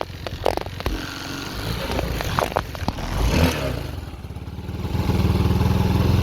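A Chinese 250cc ATV engine runs near and loud with a steady, slightly rough idle that swells toward the end, with some clatter and no talk.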